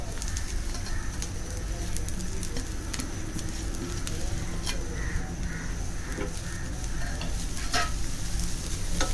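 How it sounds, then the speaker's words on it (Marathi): Dry coconut is sautéed in a pan over medium-to-high gas for Malvani vatan, with a continuous close sizzle and steady stirring scrapes while birds, pigeons and crows among them, call in the background. "सुक्या खोबऱ्याचा पण रंग बदलेपर्यंत आपल्याला परतायचा आहे"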